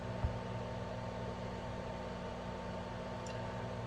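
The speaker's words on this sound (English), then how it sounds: "all I hear is the occasional woo along with the fan" A 3D printer hums steadily with a constant fan whir, an even mechanical drone with a faint click near the start.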